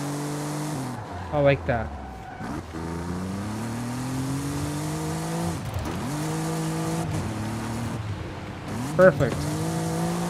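A car engine in Forza Horizon 5 revs up repeatedly and drops with each gear shift, with tire squeal in places while someone comments briefly over it.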